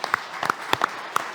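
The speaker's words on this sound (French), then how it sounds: "Applaudissements pour Marie-Sophie Rocas-Bezo" An audience applauds at a civic event in Tours honoring a notaries' chamber president, giving a short, moderately loud burst of scattered claps from a nearby crowd.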